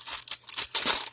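Parchment paper crinkles between slices of frozen bread, a close, brief series of crisp rustling crackles in quick bursts.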